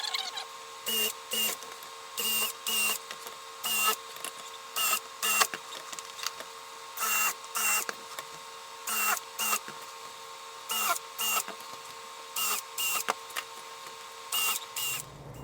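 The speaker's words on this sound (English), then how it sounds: "Take a drill." A power drill whirs in repeated short bursts separated by brief pauses, each burst a high, close whine as holes are bored into plywood.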